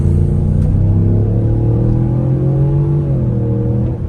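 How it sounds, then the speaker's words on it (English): A Ford EcoBoost pickup truck with a 10-speed automatic pulls hard, its engine droning loudly and steadily with a rising, humming tone close by and no talking. "so I figured I'd do a quick pull with you guys in this EcoBoost."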